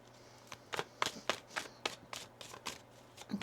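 Tarot cards are shuffled in a run of about ten crisp riffling bursts at a steady rhythm, close and fairly quiet, with no talking.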